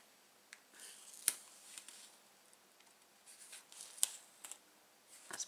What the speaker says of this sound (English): So I'll add my tape just below it.